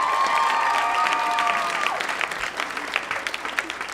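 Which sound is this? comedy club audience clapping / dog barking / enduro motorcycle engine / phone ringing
comedy club audience clapping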